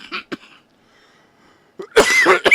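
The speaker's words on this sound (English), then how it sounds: "I'm so sorry about the coughing" A woman coughs in a few short bursts, then breaks into a loud, harsh fit of coughing close to the microphone, with a quiet pause between the bursts.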